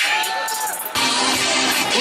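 Crowd at an official fighters' weigh-in ceremony for the Fight Nights 88 event, with loud, sustained cheering and clapping; a near voice sits over the noise at the start, and the crowd swells fuller and denser partway through.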